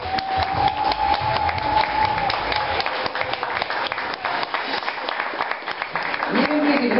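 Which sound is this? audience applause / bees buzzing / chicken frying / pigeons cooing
audience applause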